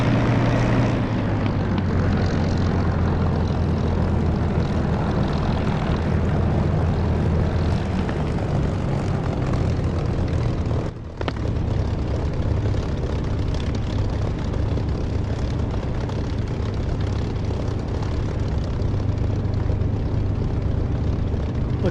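A heavy A-10 jet idles and taxis in the DCS flight simulator, its engines giving a loud, steady drone with a deep low hum throughout, broken only by one brief dip near the middle.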